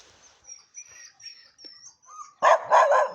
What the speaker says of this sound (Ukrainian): Паша, чого вона на мене гавкає